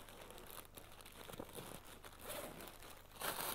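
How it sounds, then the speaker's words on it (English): A zip on a Berghaus Freeflow 20 women's rucksack being drawn open around the bag, giving a close, steady rasping crinkle for a few seconds that grows a little louder near the end. "So it unzips all the way around."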